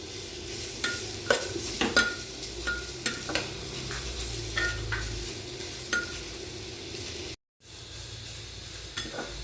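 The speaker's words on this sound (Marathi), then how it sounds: "यातच मी घालून घेणार आहे किसलेले गाजर. ते छान असं 1-2 मिनिटं परतून घेणार आहे." Grated carrot sautés in oil in a pan for carrot and pea pulao, giving a steady sizzle broken by repeated scraping stirs, close and moderately loud, with a brief drop to silence near the end.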